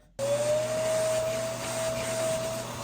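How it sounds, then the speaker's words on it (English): A dog grooming vacuum with a grooming attachment switches on abruptly and then runs as a steady, loud whirring drone with a thin high whine, continuing without pause. "This is our little vacuum attachment."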